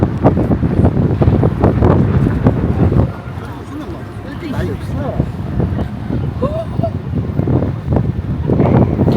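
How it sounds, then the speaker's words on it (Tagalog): Strong wind buffets the microphone with a heavy rumble, and people talk beneath the gusting noise outdoors at Haeundae Beach in Busan. "Lakas ng hangin."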